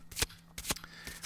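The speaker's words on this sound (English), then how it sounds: "we are shuffling cards" Playing cards shuffled in three quick riffling bursts, crisp and close, with quiet gaps between and no voices, for a Pokemon-style trading card game.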